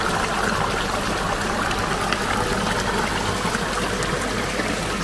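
A mountain valley stream in a rocky gorge rushes steadily, a continuous broadband wash of flowing water with trickling detail, loud and close without pause.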